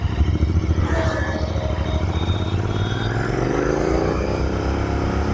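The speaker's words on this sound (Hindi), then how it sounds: "इसका एक्सीलरेशन टेस्ट करेंगे फर्स्ट गियर में।" Royal Enfield Continental GT650 twin, converted from an Interceptor 650, pulling hard in first gear out on the road, its engine note climbing steadily in pitch as it accelerates, loud and continuous.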